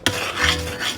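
A utensil stirs and scrapes the sides of a pot of boiling holiday candy mixture, a close, continuous rasping scrape with a sharp initial knock, with no talking.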